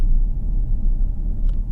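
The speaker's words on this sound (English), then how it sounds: "I'm figuring out how this car likes to be launched." Supercharged Range Rover Sport SUV pulling away from a launch, a short, close, deep rumble of engine and road noise that holds steady with a small burst near the end.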